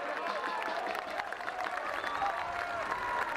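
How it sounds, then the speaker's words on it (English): Scattered applause and crowd noise at a high school rugby match in South Africa as a penalty is awarded, a steady distant wash of clapping throughout. "the claps that you're hearing are because of Westville have their penalty"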